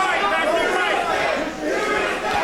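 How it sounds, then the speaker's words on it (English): Arena crowd at a 125-pound Proving Ground fight loudly chanting the name of fighter Houston Scibek, a dense, steady roar of many voices with rhythmic swells throughout. "you hear the crowd chant Houston as they get firmly behind Scibek"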